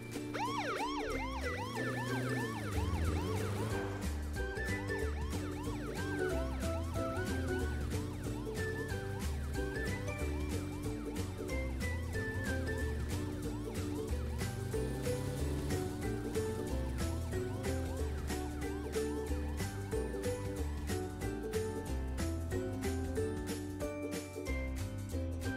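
Cartoon police patrol car siren wailing steadily over a bright, busy animated-show music track, loud and continuous throughout with no talking.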